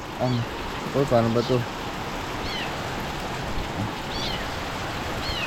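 Steady rain falling outdoors during a storm, a constant broad wash of sound throughout, with a voice speaking briefly over it near the start.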